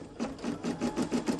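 Brother PE535 embroidery machine stitching a free-standing lace ornament, a close, fast, even mechanical chatter repeating in rapid rhythmic pulses.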